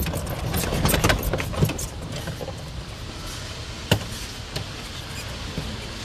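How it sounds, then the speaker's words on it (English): A vehicle jolting along a bumpy route between factory buildings, a steady engine rumble with rattles and clunks from the rough ground, loudest at the start and then easing, with one sharp knock partway through. "Kind of a bumpy ride between buildings."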